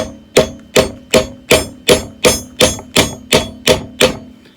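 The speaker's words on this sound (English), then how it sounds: "Right, got a hammer, club hammer." A club hammer striking metal hard eleven times to drive off a Hyundai Santa Fe CV joint, in an even, steady rhythm, each blow loud and close with a short ring.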